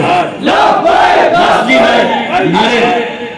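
A large crowd at a religious conference in Lahore chants slogans in loud, rising and falling unison bursts, with several swells of massed voices across the moment.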